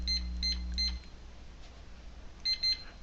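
A Rosslare security access reader beeps as it resets to factory default: three short high electronic beeps, then a quieter pause over a low hum that cuts out, then two more beeps close together. No one speaks.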